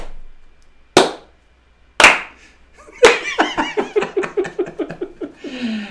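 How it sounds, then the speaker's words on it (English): A slow clap from a small group: three spaced single claps, then a run of quickening claps tapering toward the end, with light laughter and a voice near the close. "Slow clap."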